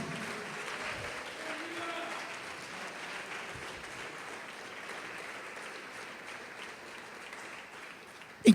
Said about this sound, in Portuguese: Pode aplaudir e glorificá-lo.